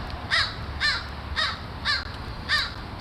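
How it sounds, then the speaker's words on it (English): Crows give six evenly spaced caws, about half a second apart, moderately loud and slightly distant over a low outdoor rumble. "I'm hearing the crows way over there in that neighborhood, communicating with these guys"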